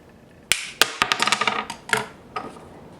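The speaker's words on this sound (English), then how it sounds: "When you hear the pop and things go flying, flywheel comes off." Screwdriver prying the flywheel off a neglected T-Maxx .15 nitro engine crankshaft: a sharp metallic pop, then a rapid flurry of small clinks and rattles as parts scatter, close and alone.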